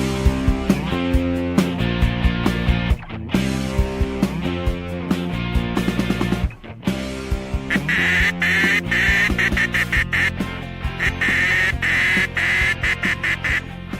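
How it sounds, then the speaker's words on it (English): A duck call is blown by a man in a duck blind at Potholes Reservoir, giving loud, rapid series of quacks in rhythmic bursts with short pauses, close and clear with no talking. "The man blowing that duck call is Shelby Ross"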